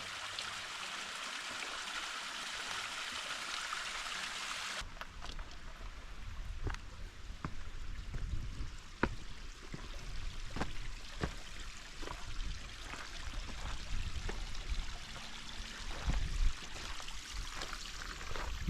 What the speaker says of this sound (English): Little waterfall just right at the foot of the bridge.